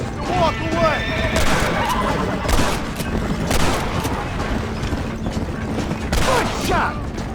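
Gunfire in the video game Red Dead Redemption cracks in a rapid, irregular volley of loud shots, mixed with horse whinnies and hoofbeats and people shouting over the action.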